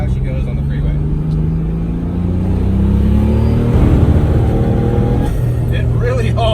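A 1975 Classic Mini Cooper fitted with a 2017 Ford EcoBoost 1.0 turbo engine accelerating on a Spanish freeway, a steady loud engine drone rising in pitch inside the cabin with road roar, a shift near the end.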